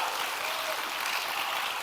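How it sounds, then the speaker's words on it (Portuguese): An audience applauding at a Baptist church youth conference, a steady, dense wash of clapping held at even loudness throughout, with no voices over it. "Então eu queria que a gente aplaudisse ao Senhor"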